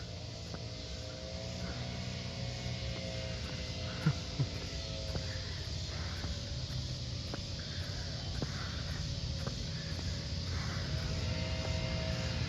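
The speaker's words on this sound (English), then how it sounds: "Someone has the air blower on." An outdoor air blower drones steadily in the distance along a town road at dusk, a faint, even hum with a few soft knocks and no talking.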